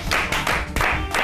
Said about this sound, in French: on va encore l'applaudir s'il vous plaît